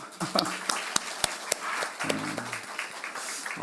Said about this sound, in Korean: 우리 찬양팀, 우리 축복 박수 할까요?